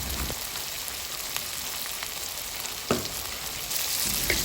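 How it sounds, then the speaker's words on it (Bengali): Chicken masala with milk sautéing and being stirred in a pot for biryani, a steady close sizzle with a few scraping stirs and a soft clunk midway, with no talking. "দুধ দেওয়ার পরেও নেড়ে চেড়ে আরও 5 মিনিটের মতো ভালোভাবে কষিয়ে নিয়েছি।"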